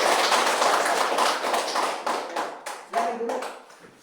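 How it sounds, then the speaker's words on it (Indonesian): A classroom of primary schoolchildren claps their hands together in a dense, fairly loud burst of overlapping claps that thins out into scattered, uneven claps toward the end, with some voices mixed in. "Silakan tepuk tangan dulu."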